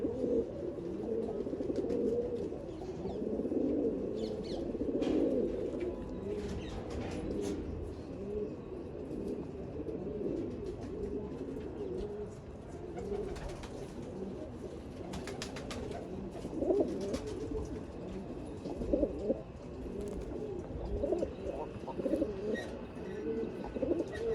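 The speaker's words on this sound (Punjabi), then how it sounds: "ਲੱਗ ਗਿਆ ਕਬੂਤਰ ਆਪਣਾ ਗੁੜਕਣ ਤੇ" Pigeons coo steadily in soft, throaty, repeating rolls, close by, with a low hum of other birds and faint chirps in the background.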